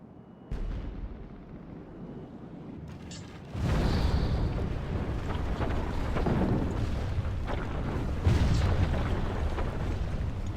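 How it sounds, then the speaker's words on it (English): Artillery fire during a siege of a Northern European stone fortress in Medieval II: Total War, heavy rumbling impacts and booms rolling steadily and at a distance after a quieter start, with no talking. "My artillery probably is hitting this tower here."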